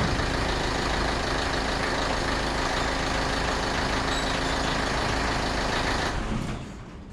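Rebuilt Ford Fiesta 1.4 TDCI diesel engine with automatic gearbox running steadily, a loud continuous close rumble that drops away as it is shut off at the end.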